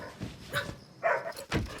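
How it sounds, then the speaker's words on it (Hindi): A dog barks and yips in a few short, close bursts, with whimper-like sounds in between over a quiet indoor background. "अरे क्यों भौंक रहा है?"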